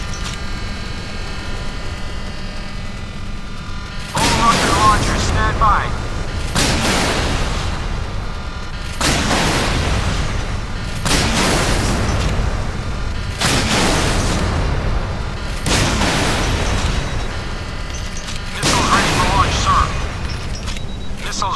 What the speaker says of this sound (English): ready for launch, sir. Missile underway. I have a visual. The target is hit.